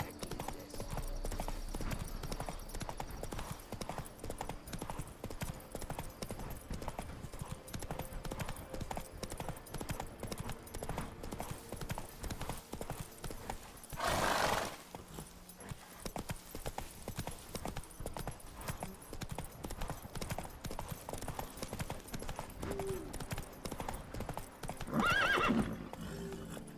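Horse hooves clip-clop steadily at a gallop through nearly the whole stretch of The Witcher 3: Wild Hunt, with a couple of loud neighs or whinnies standing out partway through and near the end.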